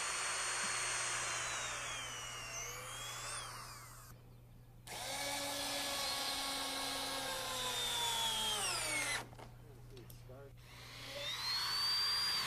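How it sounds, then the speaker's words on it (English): A power drill bores pilot holes through wooden floor decking during floor framing, with loud sustained whining bursts, a brief pause, then drilling again. "because we're screwing these down, we drill pilot holes through the decking."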